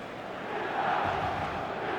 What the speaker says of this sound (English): Expectations rising, evidently the crowd hoping to be treated to a special contest.